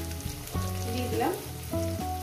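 Ingredients for a Bengali fish curry sizzle in hot oil in a pan, a soft continuous frying hiss with brief stirring scrapes and a faint tonal hum underneath.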